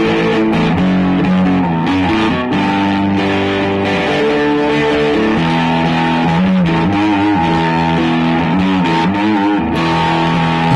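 Distorted electric guitar playing a riff with sustained chords and bending notes, loud and continuous throughout.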